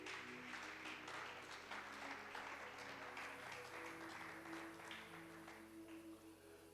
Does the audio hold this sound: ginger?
no